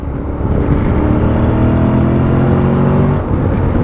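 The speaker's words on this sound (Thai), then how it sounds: "เนี่ยพอถอนเกียร์เนี่ยมันจะแบบเบิ้ลรอบให้สูงขึ้นนะ" A 2023 Honda X-ADV 750 engine blipping its revs on downshifts for rev matching, a continuous close engine drone with rising and falling pitch and a brief dip near the end.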